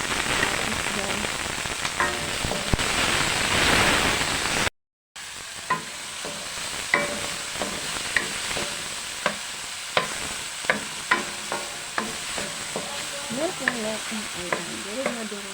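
Tomatoes sautéing with onions in a frying pan for a ground-pork okra dish, with steady sizzling and repeated clicking stirs of a utensil against the pan, close and moderately loud, after a brief gap.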